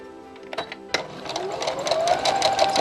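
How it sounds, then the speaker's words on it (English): A sewing machine stitches close along cord piping, reversing to tack, its motor whirring up into a fast steady run after a few short starts, loud and near. "I'm just going to reverse back to tack in place and sew quite close up to the cord"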